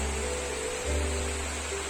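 Water splashes steadily from a waterfall-like fountain in Nishat Bagh, a Mughal garden in Srinagar, making a continuous broadband rush with a faint low hum underneath and no speech.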